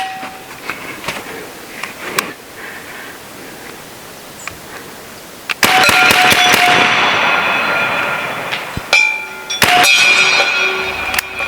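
Semi-automatic big-bore .457 caliber air rifle, a BinTac B&W S45, emptying its magazine outdoors: a string of sharp reports with a busy, sustained burst of shots in the latter half, fairly loud and with no talking.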